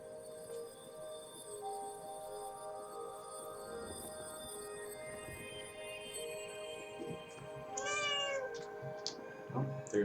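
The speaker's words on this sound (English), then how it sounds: "Oh, there's my cat." A pet cat meows indoors over a steady game-music backdrop, with a short cluster of higher, wavering cries near the end rising above the tonal bed; no voices.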